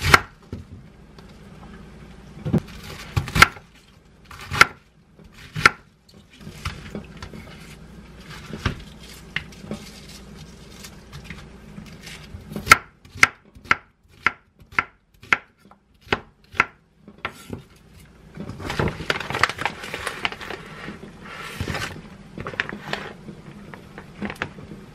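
An onion is chopped on a cutting board in a home kitchen, with sharp knife thunks landing one at a time at an uneven pace, closer together and busier toward the end.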